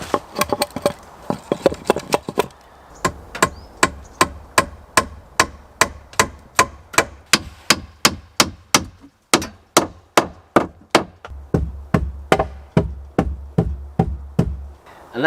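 Wood being trimmed for log cabin shelves with bushcraft tools: dozens of sharp, close wooden knocks and chops in a fast, steady rhythm, pausing briefly before resuming.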